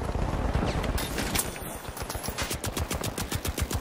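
Rapid automatic turret gunfire in The Finals video game, a dense continuous stream of shots that turns into a steady, evenly spaced rattle near the end, loud and close with no talk over it.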